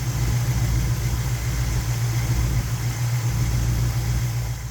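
A 1978 Monte Carlo's Chevrolet small-block 305 V8 idles nearby with a steady, even low rumble and a slight rhythmic lope, loud and uninterrupted with no talking.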